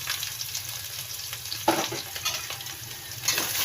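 Snake meat sizzles and crackles steadily in a hot pan, with occasional stirring and scraping bursts over the continuous frying hiss.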